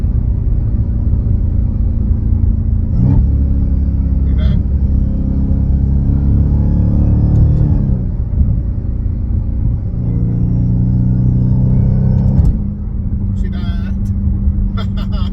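A Dodge Hellcat with a Legmaker exhaust and a JLT intake box rumbles loudly and deeply, its engine note rising and falling through revs and gear changes, with sharp shifts near the end.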